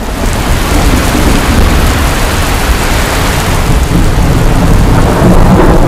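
Heavy rain pours down near a village outside Shoranur, a loud, dense, unbroken roar with low rumbling thunder underneath, constant for several seconds and with no voices.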